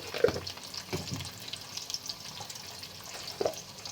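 Food fries in a pan with turmeric powder just added, a soft, continuous sizzle with faint stirring scrapes, quiet and close with no talking.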